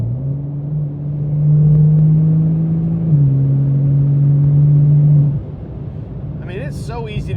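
A Porsche 911 Turbo S of the 992.1 generation pulls hard on the road with a loud, steady engine drone for about five seconds, then the note drops away as it eases off, and a voice briefly follows.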